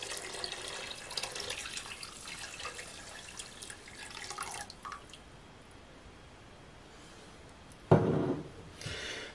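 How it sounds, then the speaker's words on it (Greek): Water is poured into a pot for making orange syrup, giving a steady splashing trickle for several seconds before a louder splash near the end. The sound is close, with no talking. "Θα βάλουμε 600 γραμμάρια νερό."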